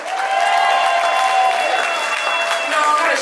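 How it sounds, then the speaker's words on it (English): Convention crowd at a fashion show applauding sponsors, steady loud clapping with scattered cheers throughout, mixed with voices and a faint sustained tone. "Please give a round of applause."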